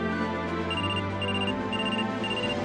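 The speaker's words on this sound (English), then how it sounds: "A phone call?" Phone ringing in the video game Trauma Center: Second Opinion, a repeating electronic ringtone in short regular bursts over a low game background hum.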